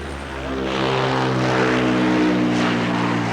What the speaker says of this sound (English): This super guppy didn't appear on the menu officially,